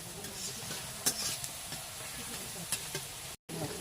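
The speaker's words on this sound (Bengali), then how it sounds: "আলুগুলো ভেজে নেব" Potatoes frying in a pan with black cumin and bay leaf, a dense continuous sizzle with a couple of sharper scrapes from stirring, close and fairly loud with no talk, briefly cut to silence near the end.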